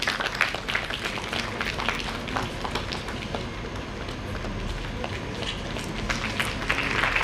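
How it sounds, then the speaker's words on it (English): Audience applause at an IEEE international conference inauguration ceremony, a steady wash of many hands clapping at moderate distance and continuing throughout. "Please give a big round of applause"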